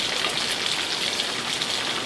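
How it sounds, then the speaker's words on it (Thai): Mae Ya waterfall in Thailand, with a constant loud hiss of water splashing and crashing on rocks close by and no talk. "ถึงแล้วครับน้ำตกแม่ยาครับ"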